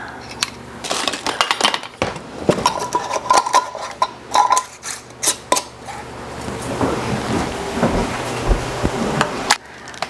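Metal lids set onto glass canning jars packed with green beans, a busy run of sharp clinks, taps and clatters, some near and loud, scattered irregularly over several seconds with no speech.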